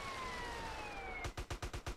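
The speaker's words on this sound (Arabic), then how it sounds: "هاي اسعاف مو دفاع مدني" An ambulance siren wails nearby, a steady drawn-out tone that switches abruptly into a fast, loud pulsing yelp for the last second.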